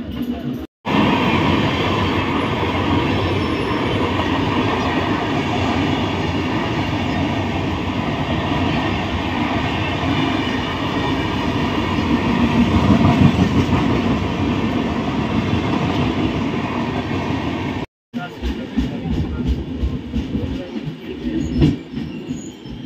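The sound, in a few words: Ujjain to Howrah passenger train moving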